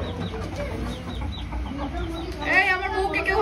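Hens cluck near a rooster standing guard over them, a busy cluster of calls with a louder, rising call near the end over a low background rumble.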